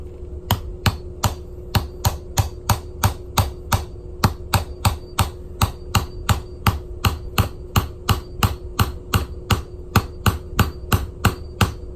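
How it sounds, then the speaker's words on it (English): Sharp metallic hammer strikes ring out in a steady, rapid rhythm, dozens of evenly spaced taps close up with no talking, stretching a Canadian quarter coin ring on a PVC pipe tool. "put my PVC pipe tool on top and hammer it down to get that stretched out"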